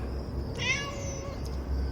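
A cat gives a single clear meow, close and moderately loud, drawn out for about a second over a quiet background hum.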